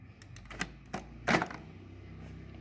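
A mop module snapping into a Kurumi KV 08 robot vacuum gives a few sharp plastic clicks close by, with a louder latch click last, then quiet.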